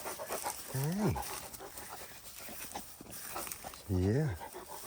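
Farm dogs pant close by in quick, breathy bursts over a steady background, with a brief voiced, whining sound rising through the panting twice.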